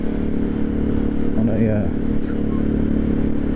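An Aprilia Shiver 750 fuel-injected motorcycle engine runs steadily close by with the throttle released and clutch pulled in, a continuous low drone with a brief rise in pitch midway, while someone talks over it.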